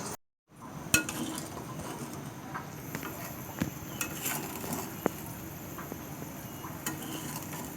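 A thin curry of small hilsa fish simmers quietly in a covered pot, a soft, steady bubbling hiss broken by scattered faint clinks and taps of the lid and utensils, with no talking.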